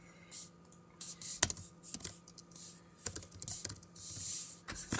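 Quick bursts of typing on a computer keyboard during a Python programming lesson, clustered close keystrokes and clicks with short pauses between them, over faint room hum.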